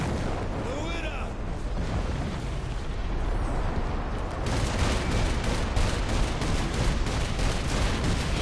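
Dense, continuous barrage of gunfire and explosions in a video game as the Washington Monument is shot down, a steady loud roar with sharper bursts thickening toward the end.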